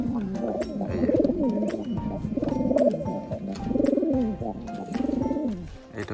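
Several pigeons coo in repeated rolling phrases, close and fairly loud, with a soft chorus of overlapping calls and no voices.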